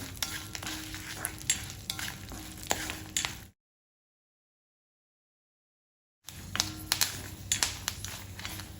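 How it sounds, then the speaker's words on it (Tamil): Garlic cloves dry-roasting in a pan produce a close sizzle with repeated scraping stir strokes, broken by a stretch of complete silence midway before the stirring and frying resume. "இப்போ இதையும் நல்லா ட்ரை ரோஸ்ட் பண்ணி எடுத்துக்கலாங்க."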